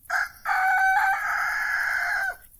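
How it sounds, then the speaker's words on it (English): Rooster crowing once, loud and close: a short opening note, then a long sustained cock-a-doodle-doo that trails off at the end. "suddenly Rooster let out his own cry"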